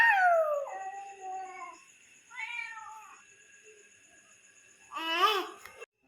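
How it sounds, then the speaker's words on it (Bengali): A cat meows and yowls in drawn-out, wavering cries, first a long call, then a shorter one, then a louder final burst, close by outdoors on a rainy day with no talking. "এ বিড়াল কি করে ডাকছে রে?"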